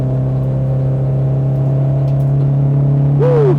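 Race car driven on a UK circuit, its engine holding a loud, steady drone with a rising whine near the end, heard from inside the car with no talking.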